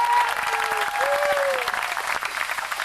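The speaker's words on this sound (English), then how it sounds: "Ladies and gentlemen, how about another round of applause for Mano?" Crowd applause at an outdoor show in Hawaii after an acrobatic high dive, steady clapping with whistles and a few cheering voices mixed in.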